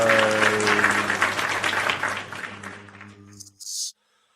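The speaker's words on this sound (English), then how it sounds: "Round of applause, PWT Universe." A round of applause from a crowd for a wrestling talk show host, loud and steady with a low droning tone underneath, fading out near the end.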